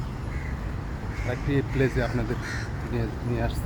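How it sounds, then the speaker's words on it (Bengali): Crows caw repeatedly overhead near the Muar bridge over the river in Muar, Johor, Malaysia, their harsh calls mixed under someone talking close by. "উপরে অনেক কাক ডাকাডাকি করছে"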